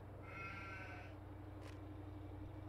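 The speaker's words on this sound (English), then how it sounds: "Look at our sheep." A single sheep bleats, drawn-out and wavering, inside an open livestock trailer, followed by a faint brief squeak against a constant low background hum.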